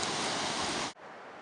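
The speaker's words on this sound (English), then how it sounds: "beautiful rock pools that the water's flowing through" Water flows through granite rock pools in the Yosemite backcountry, a loud steady rushing wash that cuts off abruptly near the end and leaves quieter background noise.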